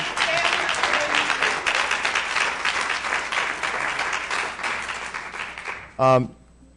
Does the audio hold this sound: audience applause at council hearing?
yes